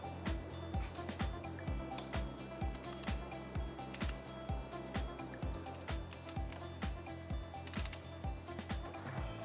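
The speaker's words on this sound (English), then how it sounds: "Torque all 8 screws to 100 Newton meters evenly." Screws are tightened to torque on an Ebsray R75 regenerative turbine pump, a steady run of rapid ratcheting clicks close up, repeating in short even strokes throughout.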